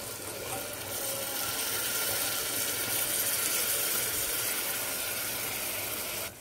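About 2.5 cups of water pours into a cooking pot of soaked kodo millet vegetable biryani, a continuous broad rushing hiss that stays loud and steady before cutting off abruptly at the end.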